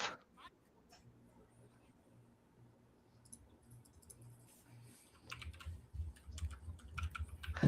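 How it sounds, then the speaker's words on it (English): Keyboard typing on a computer during a livestream, a faint steady patter of key clicks under low background sound, with louder bursts toward the end. "What you typing over there"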